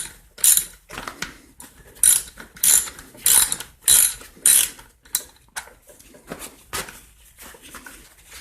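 A 13 mm ratchet working fasteners on the cover of a Poulan P3314 chainsaw, with close, loud bursts of pawl clicking in irregular strokes and short pauses between them.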